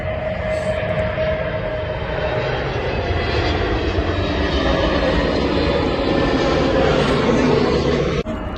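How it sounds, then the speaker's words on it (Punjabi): A loud, steady airplane engine roar fills the whole stretch, building slightly as the aircraft takes off nearby in England. "ਹੁਣ ਚੌਥਾ ਜਹਾਜ਼ ਚੜਨ ਲੱਗਾ"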